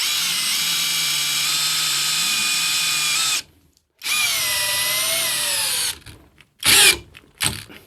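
An Einhell TP-CD 18/80 Li BL cordless drill on second speed drives a long 7x260 screw without a pilot hole, its motor whining steadily in close bursts that stop briefly, then end in short stuttering pulses.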